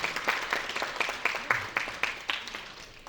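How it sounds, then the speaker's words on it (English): An audience at an epilepsy awareness event applauds, giving steady, fairly quiet clapping with regular hand claps heard from a modest distance for a few seconds. "please give yourself a round of applause for coming out for such a worthy cause tonight."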